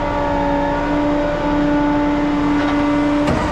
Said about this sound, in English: I'll leave you with some the sweet music of the Putzmeister pump cell.